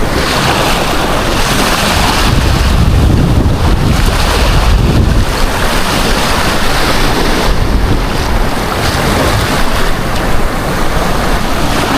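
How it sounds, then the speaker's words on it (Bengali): Sea surf crashing onto a beach along the Cox's Bazar Marine Drive, loud and close with heavy rolling wash and steady wind buffeting the microphone throughout. "কি ঢেউ!"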